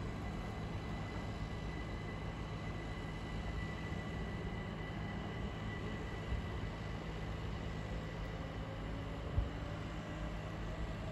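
A Southeastern passenger train from Ashford International to London Victoria arrives at Bromley South station as a faint, steady, distant rolling rumble and hiss, with a couple of small knocks near the end.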